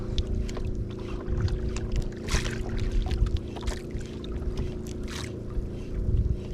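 Paddles dip and splash in the shallow sea beside a small boat, uneven strokes over a steady low rumble of wind and engine-like drone.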